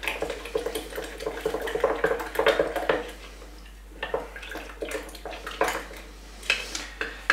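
A wooden spoon stirs sourdough soup starter, making close, steady scraping and knocking with wet sloshing, the strokes coming in uneven bursts over several seconds before a brief pause and a few more stirs, with no voices.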